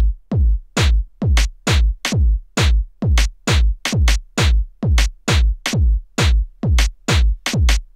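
A sharp, bright UK garage rim shot sample repeats steadily, about two strikes per second, each crisp and dry with a quick decay, loud and alone.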